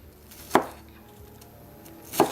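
A kitchen knife slicing through an onion on a cutting board, two crisp, sharp chops spaced well over a second apart in a quiet room.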